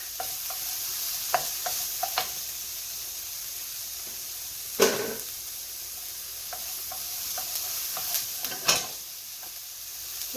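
Sun-dried tomatoes hiss and sizzle in a pan with shrimp and mushroom marsala, under a steady frying crackle punctuated by several sharp utensil scrapes and stirring clatters.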